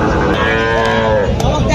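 A calf moos loudly and close at a cattle market, one long drawn-out bellow that holds steady before trailing off, with little else audible around it.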